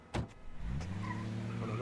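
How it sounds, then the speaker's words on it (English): A taxi cab pulls away: a door thud is followed by an engine starting up and settling into a steady, close rumble that holds for over a second. "you know to check you have your phone first, before the cab pulls away"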